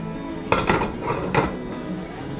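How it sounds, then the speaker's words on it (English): A metal spoon clinks against a small wok while trail mix of raisins and cranberries cooks over a low flame, with two or three sharp clusters of close clinks over a faint background. "And I'm using a small wok here, but any other pan uh, will do."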